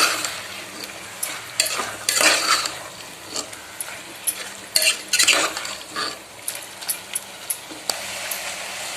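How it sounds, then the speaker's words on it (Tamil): Chicken pieces for curry are stirred in a hot pan, with a low sizzle beneath irregular scraping strokes and sharp clinks of a metal spoon against the pan, loud and close. "கறி சேர்த்து நல்லா கலந்து விட்டுடலாம்."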